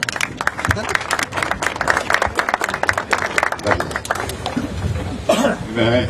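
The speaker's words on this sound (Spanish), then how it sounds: "Fuerte las palmas, por favor." An audience at a public ceremony bursts into applause, a dense, loud clapping that continues steadily with some coughs and murmurs underneath.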